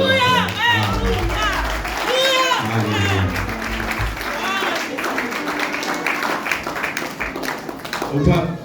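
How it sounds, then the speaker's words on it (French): A church congregation claps together with overlapping voices and singing, the applause running steadily beneath the vocals before swelling briefly near the end. "nous applaudissons"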